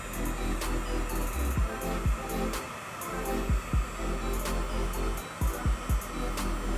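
A heat gun shrinks heat-shrink tape over wiring during an AuxBeam light bar install, giving a steady, close-up droning hum broken by several dull, low thumps from handling.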